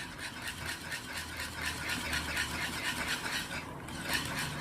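Butter, traditional country butter, is stirred into a white sauce in a pan for lasagna, giving a soft, rhythmic scraping and swishing of a utensil against the pan, close and steady.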